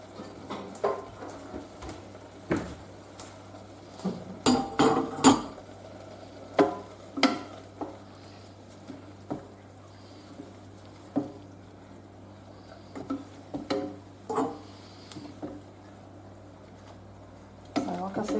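Mushrooms cook in a pan, with soft sizzling underneath repeated close scrapes and clacks of a utensil stirring against the pan, heard alone over a low steady hum.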